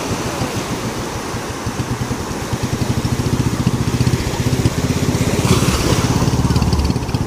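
Small boat engine started beside the shore, chugging with a rapid, regular pulsing beat that builds and holds steady at close range.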